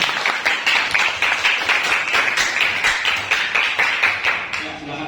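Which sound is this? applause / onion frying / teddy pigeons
applause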